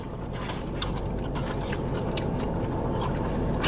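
Someone bites into a hot dog and chews it up close, a series of soft, moist crunching and smacking sounds over a steady background, with no talking.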